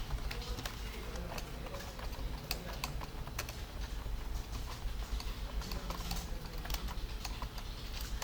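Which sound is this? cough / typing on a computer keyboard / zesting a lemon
typing on a computer keyboard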